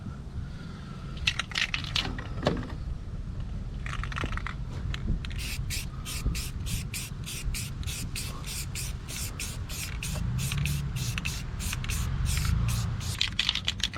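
Aerosol can of sandable primer hisses in a long spray across rust-hole body work on a 1968 Ford F100, followed by a rapid series of short rhythmic bursts, close with faint handling noise.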